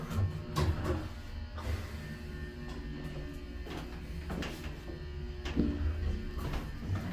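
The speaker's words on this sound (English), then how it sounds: "I'm gonna listen to that motor again" Dover Burlington hydraulic elevator in Syosset, its pump motor running as a steady low hum and drone, with several brief clunks and relay-like clicks breaking through at intervals.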